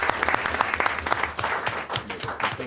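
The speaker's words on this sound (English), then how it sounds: "Give her a round of applause" A crowd claps steadily, dense and lively applause filling the whole stretch without pause.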